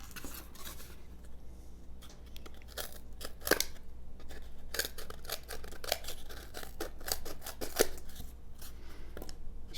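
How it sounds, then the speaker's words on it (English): The scissors of a budget Flissa 15-in-1 multi-tool snip repeatedly, giving a run of crisp, close cutting clicks and crunches at an uneven pace, fairly quiet and with no talking. "I'm talking about like the blade length itself of the scissors"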